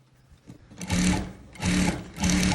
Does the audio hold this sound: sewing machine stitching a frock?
yes